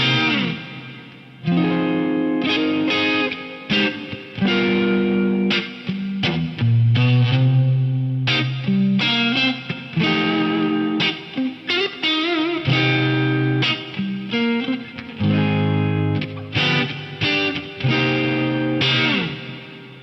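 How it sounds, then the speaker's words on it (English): Electric guitar played through a Digitech DSP128 rack unit set to its large room reverb, with chords and single notes ringing out in a spacious, lingering tail, no talking. "number 3 is a large room."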